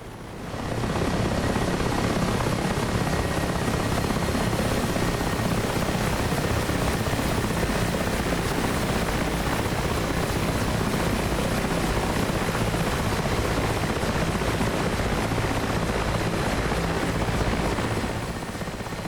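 A Mi-8 Hip helicopter in the DCS combat flight simulator lifts off, its rotor and turbine roar loud, near and steady throughout, with a brief fade in at the start and out at the end.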